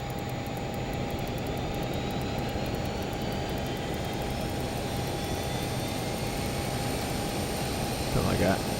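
Learjet 35A jet engine number two spooling up in a flight simulator, a steady loud whine and hum with a faint rising tone running throughout, plus a brief click near the end.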